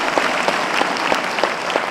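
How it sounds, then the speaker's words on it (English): A round of applause from a podcast studio audience honouring India's Chief of Defence Staff, General Anil Chauhan, dense, even clapping throughout the short stretch with no talking. "Huge round of applause for that."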